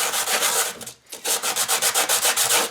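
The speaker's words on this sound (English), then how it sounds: "take a piece of coarse sandpaper like this, take it and set it down" Coarse sandpaper rubs back and forth along the edge of a model lodge roof, a steady run of close, gritty rasping strokes that pauses once briefly before resuming in quick, regular rhythm.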